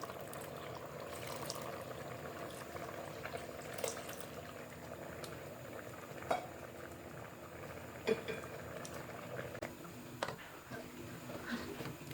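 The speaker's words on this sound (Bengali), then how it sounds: "এখন দেব আমি দুধ হাফ কেজি দুধ আমি ভালো করে জাল করে নিয়েছি" Half a kilo of milk heats in a pot for date-palm jaggery payesh, giving a faint, steady simmering hiss with occasional small bubbling pops and clinks.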